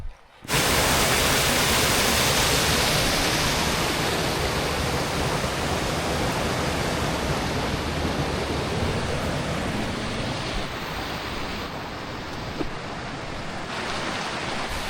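Cold fresh water streams steadily along a hiking trail in Brandywine Meadows, a continuous broad rushing wash that stays loud and close for the whole stretch with no voices over it.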